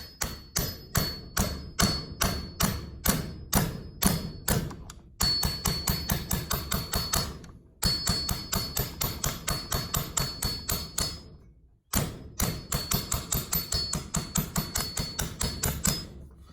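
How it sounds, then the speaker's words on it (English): A hammer taps on a socket to drive off the top end of a Polaris 754 big bore engine, giving steady rhythmic metallic knocks in quick runs, close and loud, broken by a few short pauses. "I'm just tapping on it."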